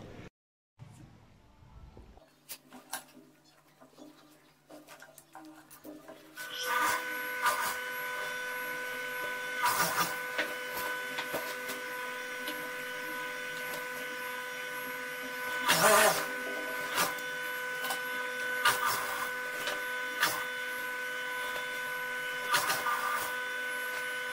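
A sewing machine stitches the lining of a Constantine kandoura. After a few quiet handling sounds it starts a steady, loud mechanical whirring hum, with brief clunks and a sharper burst partway through.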